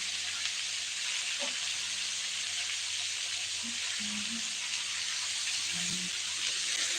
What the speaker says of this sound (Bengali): এটা ভাজি করবো